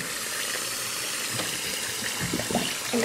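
Water running into a bath while something is rinsed off, a steady close splashing rush with a few sharper splashes and gurgles near the end.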